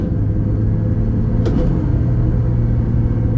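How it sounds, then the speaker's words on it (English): A Ford Bronco engine idles high with disconnected vacuum lines, a steady loud low rumble heard close up from inside the vehicle, with a brief clank near the middle. "We're idling high again for some reason."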